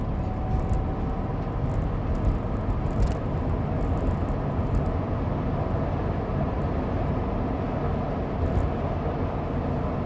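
A car accelerating up to speed, its steady low engine and road roar filling the cabin with a broadband rumble at a constant level, no voices present.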